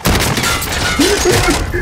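Loud bursts of gunfire in the video game Call of Duty: Modern Warfare, dense and booming, with a voice briefly heard underneath.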